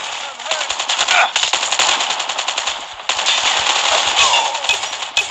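Rapid, loud automatic gunfire rattles in bursts in Call of Duty Mobile, with a brief pause and faint voices beneath the shooting.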